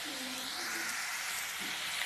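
Ragi onion pakoda deep-fries in hot oil, giving a brief, even, close-up hiss of bubbling oil with little variation.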